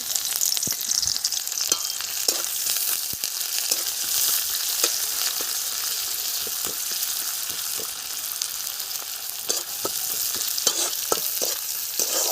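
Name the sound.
frying red amaranth greens in oil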